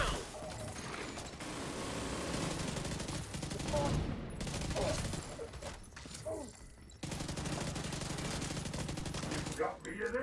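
Sustained rapid gunfire from a video game firefight, dense bursts running nearly continuously with brief gaps, loud and close, with some voices mixed in.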